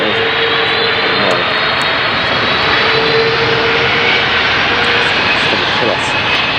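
Boeing 747 jet engines roar loudly and close by, a dense broadband rush with a faint high whine sustained throughout, steady with no pause.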